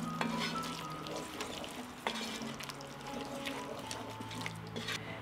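Vegetables seasoned with salt, pepper and Hungarian ground paprika are stirred in a pan, a soft sizzle with scraping spoon strokes and light clinks, fairly quiet and close.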